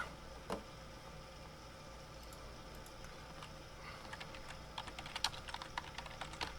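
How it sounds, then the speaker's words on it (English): Fingers type on a computer keyboard, quiet scattered keystrokes at first that build into a faster, denser burst of clicks near the end. "So I just type in Google Scholar."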